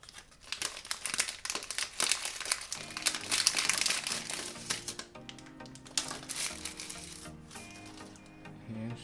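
Gold foil blind box packaging crinkles and crackles loudly up close as it is torn open and handled, continuous rustling with sharp crunches and a few faint tones near the end.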